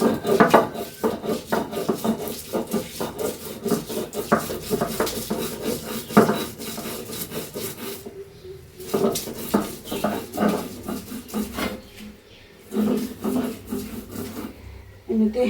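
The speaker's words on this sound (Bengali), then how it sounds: "লবণটা দিই, বাটবো সবই, আগে চিংড়িগুলো বেটে নিই।" Shrimp are crushed with salt on a flat stone grinding slab in a home kitchen. Close, rhythmic scraping and rubbing strokes follow one another with short pauses between runs.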